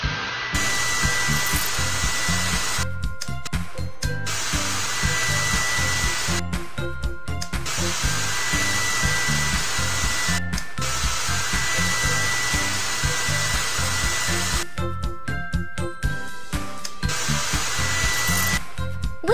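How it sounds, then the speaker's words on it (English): A hair dryer in a baby beauty salon video game blows with a steady, loud whirring drone, broken by brief gaps and short digital effects, with no talking. "Turn on the hair dryer."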